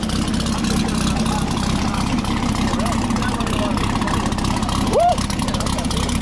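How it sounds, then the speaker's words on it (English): A Chevrolet Corvette engine at a classic and exotic car gathering, a loud continuous rumble with a brief surge in revs near the end, while people talk faintly in the background. "Revving up his Corvette."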